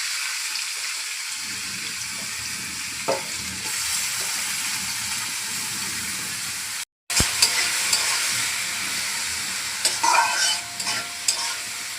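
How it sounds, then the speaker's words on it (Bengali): Potato pieces frying in hot oil for aloo bhaji give a loud, dense, continuous hiss close by, cut briefly by a pause, with occasional stirring clatter later on. "তেলটা গরম হয়ে গেছে, এখন আমি আলুগুলো দিয়ে দেবো"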